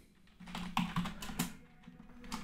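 Typing on a computer keyboard while writing C code, a quick run of light, close key clicks with an uneven rhythm and no talking.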